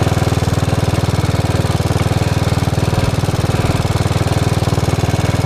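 A Royal Enfield Bullet Machismo 500 motorcycle's single-cylinder engine thumps in a steady, rapid, even rhythm, loud and close, with a constant low pulse and no voices.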